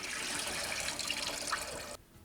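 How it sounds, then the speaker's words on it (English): Rice is rinsed in water in a kitchen, a steady, faint rush of sloshing water that runs for about two seconds and then stops abruptly. "So just wash it good 3 to 4 times until that water gets nice and clear."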